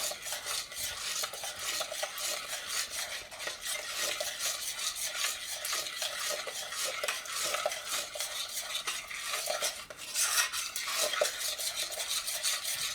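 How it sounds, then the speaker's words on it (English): A spoon stirs butter into thick chocolate fudge in a pot, making continuous rhythmic scraping and swishing against the metal, close and steady throughout. "And then I'm going to stir the butter in."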